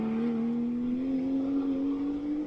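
GT3 race cars in GT Sport at a virtual Road America. A steady engine drone rises slowly in pitch under acceleration and runs continuously through the whole stretch without any talk.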